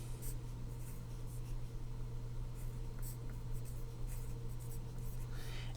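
Pen or pencil writing on paper, a continuous scratchy stroking sound with small rhythmic bursts, close up over a steady low hum and with no speech.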